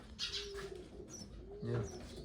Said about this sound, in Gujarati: આમાં બચ્ચા બોલે છે